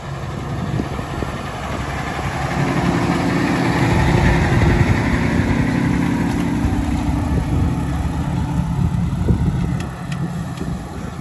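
A tractor engine runs steadily at idle in a field of light, sandy soil during a strip-till demo, a continuous low rumble with a mechanical drone that swells slightly and holds without pause.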